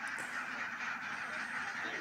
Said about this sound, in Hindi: ये 1000 बत्तख है जिसकी उम्र 6 मंथ है।